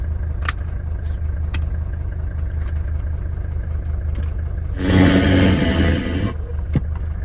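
A 1976 Mercedes-Benz 300D diesel engine runs steadily at idle with a constant low drone. A brief louder broadband whoosh rises over it midway, and a few faint clicks are scattered through.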